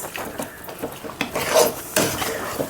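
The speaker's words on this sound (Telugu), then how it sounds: "ఇట్లా సిమ్లో పెట్టి ఇట్లా కలుపుతూ ఉండాలి ఒక 5 మినిట్స్" Stirring Andhra-style tomato chutney as it simmers in a pan on low heat: spoon scrapes and clinks against the pan in irregular strokes, close and fairly loud, with no voice.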